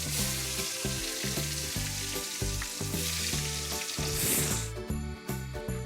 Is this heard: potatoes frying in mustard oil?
yes